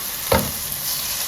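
A dredged tilapia fillet laid into hot oil in a pan, a short burst of sizzling that settles into a steady, gentle frying hiss.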